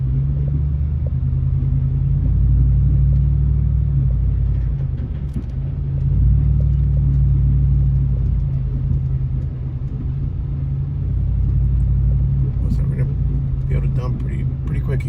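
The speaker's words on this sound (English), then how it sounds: "A few trucks coming out." Trucks at a dumpster business yard, a steady deep engine rumble swelling and easing as vehicles pass nearby, with someone talking over it.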